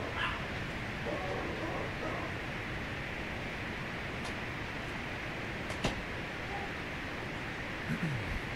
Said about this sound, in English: Can you guys hear my dogs? So loud.